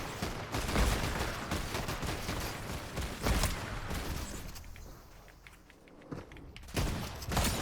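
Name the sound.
gunfire from a turret in the video game Fortnite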